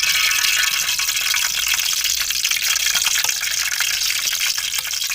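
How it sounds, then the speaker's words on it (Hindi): Pakora-shaped lumps of cabbage, egg and chicken batter sizzle in hot oil in a kadai, a steady loud hiss and crackle filling the whole stretch, with no voices. "कढ़ाई में ऑयल डाला है, ऑयल हमारा गर्म हो चुका है। अब इसके अंदर मैं ऐसे पकौड़ों की शेप में ये स्नैक्स डाल दूँगी।"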